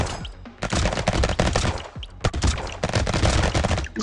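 A bazooka fires repeatedly in the video game Brotato amid rapid explosions, producing a loud, dense barrage of sharp bangs and booms that continues almost without gaps.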